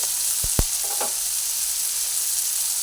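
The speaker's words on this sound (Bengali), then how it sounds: "সাদা জিরেটা মাছের সঙ্গে একসঙ্গে ভেজে নিচ্ছি" White cumin seeds frying together with fish in a pan, giving a steady close sizzling hiss with a couple of brief clinks near the start.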